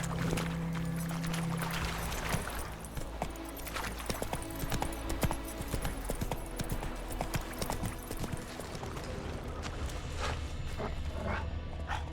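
Geralt's horse Roach trotting in The Witcher 3: Wild Hunt: a steady run of close hoof clip-clops over a continuous low ambient bed, with no talk.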